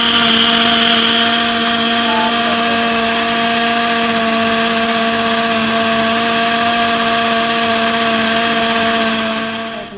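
An electric blender whirs at a constant, loud pitch, mixing orange cake batter with eggs, vanilla and baking powder, holding steady for about ten seconds before spinning down at the end.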